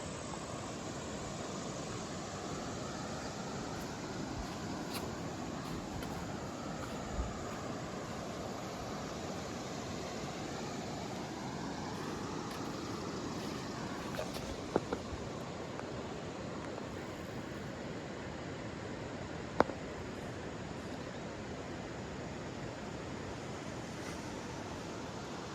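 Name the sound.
river flowing at a campsite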